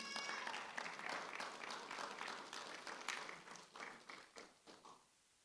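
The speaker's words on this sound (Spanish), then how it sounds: "Dale un aplauso al Señor." A church congregation applauds during a Spanish-language sermon, a dense wash of many hands clapping steadily for about five seconds before quickly dying away.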